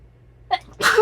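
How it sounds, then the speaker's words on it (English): One person sneezes during allergy season, a short sharp inhale followed by a loud, close burst of sneeze at the end. "first I'm going to sneeze"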